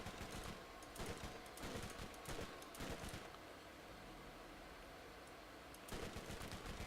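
Rapid SMG bursts fire in the shooter game Borderlands on PC, several short automatic volleys separated by brief pauses, fairly quiet overall and without talk.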